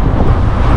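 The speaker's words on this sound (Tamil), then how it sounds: "காற்று என்னமா அடிக்குது பார்த்தீங்களா" Strong wind buffets the microphone outdoors at Sabina Park cricket ground in Kingston, Jamaica, a steady, loud, broadband rush that never lets up across the short stretch.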